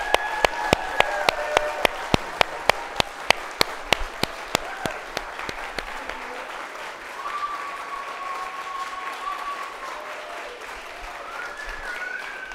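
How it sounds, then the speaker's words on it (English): Sharp, evenly spaced claps ring out at first, then give way to a softer, steady wash of graduation-ceremony crowd applause as the clapping continues. "Let's give them another round of applause."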